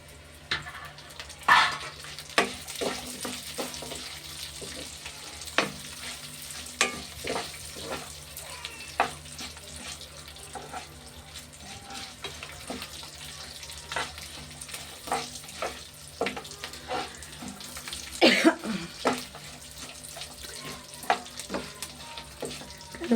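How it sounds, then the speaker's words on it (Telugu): Garlic cloves dropped into hot oil sizzle steadily in a pan, with a constant frying hiss punctuated by repeated sharp clicks and stirring knocks throughout, a louder burst of activity near the end. "ఇందులోనండి ఎల్లుల్లిపాయలు వేసేస్తున్నానండి"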